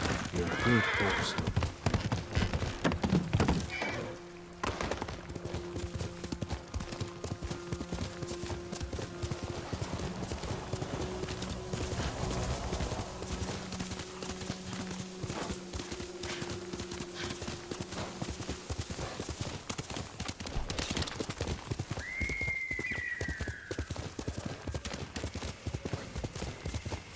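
Horse hooves clip-clop in a steady rhythm across the whole stretch, with a brief whinny near the end and game music beneath, from the video game Ghost of Tsushima.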